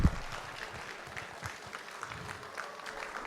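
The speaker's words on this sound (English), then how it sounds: "Can we get a round of applause?" A crowd applauds for heavyweight fighter Ibragim Sagov at an East vs West arm-wrestling event: a faint, distant wash of clapping that starts with a brief thump and stays low and steady.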